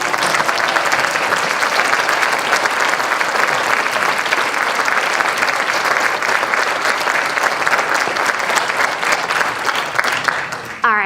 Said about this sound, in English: Okay, now you can clap.